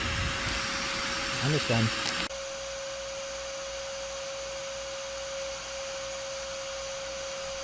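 A shop vacuum running steadily to suck yellow jackets out of an underground wasp nest, a constant droning whine with a steady tone; a person speaks briefly near the start before the motor carries on alone.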